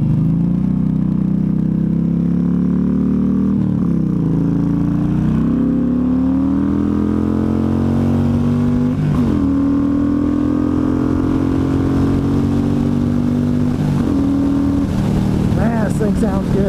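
A 2015 Yamaha Stryker motorcycle engine revving while riding, a steady loud drone that rises in pitch through the gears with brief dips at shifts, close and continuous.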